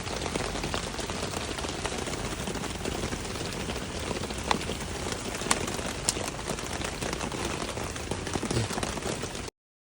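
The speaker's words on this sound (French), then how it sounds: "Il pleut." Steady rain falls continuously in the Dolomites, a soft even hiss of drops on a surface with occasional louder drips, no one speaking.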